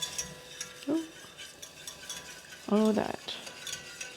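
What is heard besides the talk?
whisking flour and milk sauce in a pot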